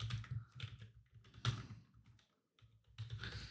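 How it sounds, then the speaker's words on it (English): Fingers type on a computer keyboard, entering an email address in short bursts of close, crisp key clicks with a brief pause partway through. "we would have to type the email exactly as it is"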